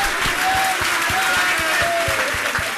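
Hall audience at a Jain spiritual Q&A session applauds vigorously, a thick continuous clatter of many hands that holds steady at full strength. Some faint voices sit under the clapping.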